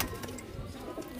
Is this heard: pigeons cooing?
yes